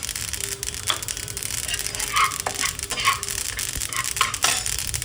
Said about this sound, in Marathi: तीळ भाजून घेऊया।